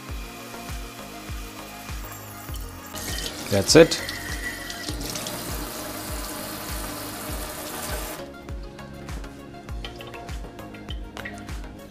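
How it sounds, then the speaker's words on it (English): Hot water runs through the shower head of an espresso machine during cleaning, a steady hiss of flowing water with some clatter, and a brief spoken remark over it. "Just run some hot water and use some soap."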